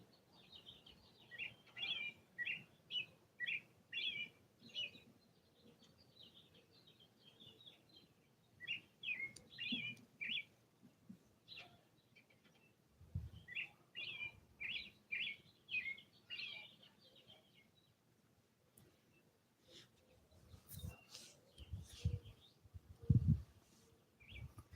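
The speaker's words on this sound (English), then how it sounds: "The birds are happy." Small birds chirp and tweet outdoors in quick, bright bursts of song that come and go over the first twenty seconds. The calls are moderately near, and a few low thumps and knocks follow later.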